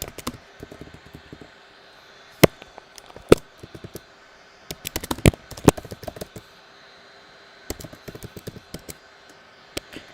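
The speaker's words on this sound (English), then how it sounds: "so I'll type that in the chat." Clicking on a computer keyboard while typing a chat message, with scattered soft keystrokes and bursts of quicker, sharper taps, close up over a quiet background hum, with no voice.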